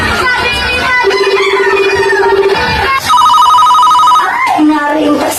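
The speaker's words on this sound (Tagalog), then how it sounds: "Naring ka cellphone." A cellphone rings with loud electronic tones, first a long steady note and then a higher one, over a busy noisy room. A voice can be heard speaking under the ringing.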